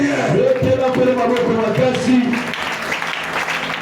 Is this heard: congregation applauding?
yes